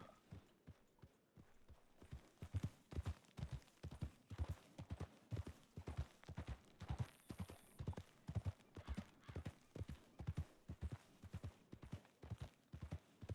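A horse's hooves clip-clop steadily in the video game WildRP, the evenly paced thuds repeating close and clear for over ten seconds along a trail.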